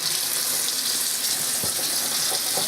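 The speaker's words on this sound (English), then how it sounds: "So I'm washing my fruit very well." Fruit being washed under a running kitchen tap, a loud steady hiss of water with small splashing variations throughout.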